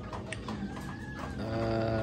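Brood cocks let out near battery cages at a poultry breeding farm, clucking and a rising crow, close by.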